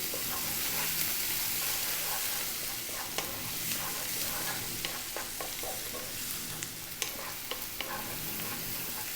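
Onions and curry leaves frying on high heat for ground beef keema, a dense bright sizzle throughout with scattered clicks and scrapes of stirring in the pan, close and steady.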